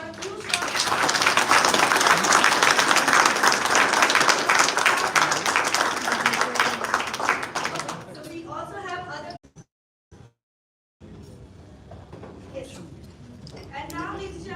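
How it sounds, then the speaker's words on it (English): Loud, dense applause from an audience at an office inauguration for several seconds, then it dies away into a quiet room with a few scattered sounds and a voice. "Can we have a huge round of applause?"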